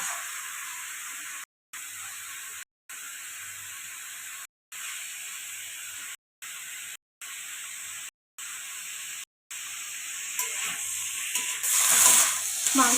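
Chicken pieces for a yogurt chicken dish fry in a pan with a steady, moderately loud sizzling hiss, cut by several short silent gaps and swelling louder toward the end.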